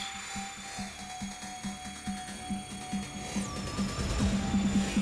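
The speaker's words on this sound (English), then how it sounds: "a new tutorial for a robotic dubstep bass" A gritty, pulsing robotic dubstep bass made in the Massive synth buzzes in a rapid rhythmic pattern, growing louder and rougher toward the end, with a faint pitched whine above it.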